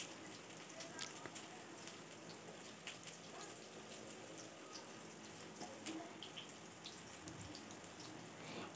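Paneer cubes fry in hot oil in a wok, giving a faint, steady crackling sizzle with scattered sharper pops.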